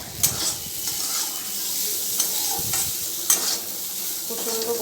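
Sliced bitter gourd fries in a pan for a home lunch, a loud, continuous close-up sizzle broken by a few sharp stirring scrapes and spatters, with no voices.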